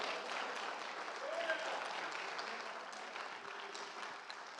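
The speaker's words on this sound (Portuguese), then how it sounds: "E se você crê, aplauda bem forte a Deus." A church congregation applauding at a worship service, steady broadband clapping that carries through the whole stretch at moderate level, with some voices mixed in.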